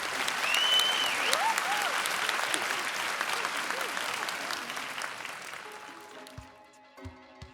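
Arena crowd applause and cheering in an NBA 2K26 basketball game, honoring Derrick Rose's dunk contest win, a loud sustained roar of clapping that slowly fades out.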